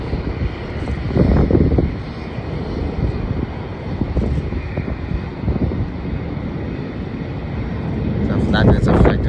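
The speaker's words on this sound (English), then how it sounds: "That is flown by Jetstar and an Airbus A320. This is going to go now." Jetstar Airbus A320 taking off at Melbourne Airport, a broad distant engine roar building slowly under wind noise, swelling louder toward the end.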